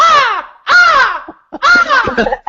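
A bird calls outside, three loud, harsh cawing calls in quick succession, close and clear against an otherwise quiet background.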